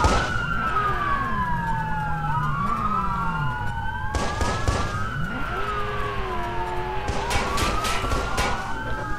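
Several police sirens in the video game Watch Dogs wailing at once, their pitches sweeping up and down and overlapping, with a steady engine rumble underneath and no talking.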